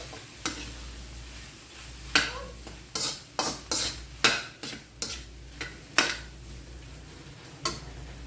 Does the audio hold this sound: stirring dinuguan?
yes